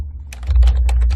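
Quick bursts of keys being tapped on a computer keyboard, a short run of close, crisp clicks over a low background hum.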